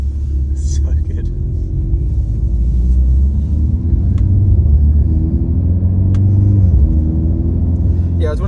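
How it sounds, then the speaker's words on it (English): A Mercedes C63 S E Performance drifting on a track: a deep, loud engine rumble rises and falls with revving sweeps under continuous talk, with a few sharp clicks. "car goes completely sideways, you can still do your big skids and drifts."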